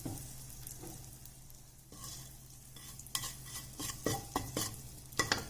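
Hot oil in a pan for bottle gourd curry, a quiet steady sizzle at first, then louder crackling bursts and spoon stirs as hing goes in, close and without talk.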